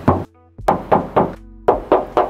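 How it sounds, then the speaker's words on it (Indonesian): Knocking on the original hood of a Toyota Yaris TRD car: two groups of sharp, loud knocks, three raps each, ringing briefly. "Kita tes ketok dulu ya."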